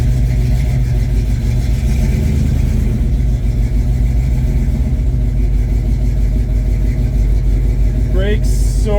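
A 1979 Pontiac Trans Am engine runs steadily in reverse, a loud, constant low rumble with a slight lift in revs. A brief squeaky, higher-pitched sound appears near the end.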